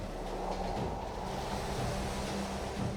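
Steady roar of ocean waves and surf, a continuous rushing wash with no distinct breaks, moderately loud throughout.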